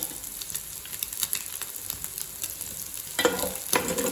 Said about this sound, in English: You can see the prawns has fried for 2 minutes.